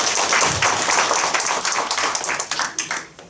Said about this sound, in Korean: 힘찬 박수로 지지해 주십시오.